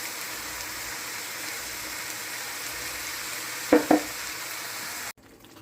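Alfredo and mozzarella sauces stirred together in a pan, a steady soft sizzle and scrape running throughout, broken by two brief louder clatters near the end before it cuts off.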